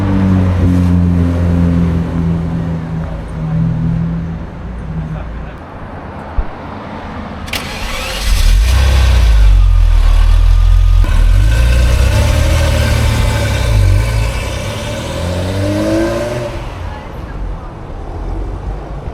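A Ferrari engine starts up and settles into a steady idle on a Tokyo street, the low rumble swelling loud about midway and holding. People talk over and around it.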